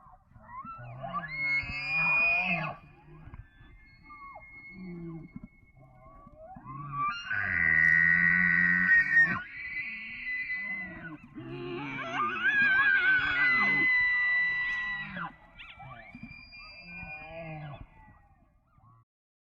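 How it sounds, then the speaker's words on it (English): Elk bugle calls come in three loud, drawn-out bursts, each a rising, wavering high whistle with grunting undertones, separated by short pauses. "it sounded exactly like an elk bugle call"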